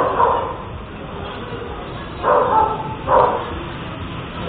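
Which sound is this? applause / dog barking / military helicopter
dog barking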